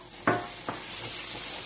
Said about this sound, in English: that is my onions, garlic and ginger in there frying